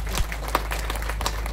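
An audience applauds with scattered, fairly soft claps over a low steady hum, with a few sharper hand strikes standing out.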